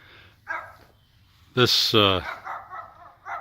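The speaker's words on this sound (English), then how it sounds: "now I have a little dog barking" A small dog barks a couple of times in quick succession nearby, sharp and fairly loud, with a person talking softly before and after, outdoors beside a house.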